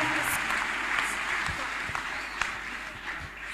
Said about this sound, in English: Let us clap hands for the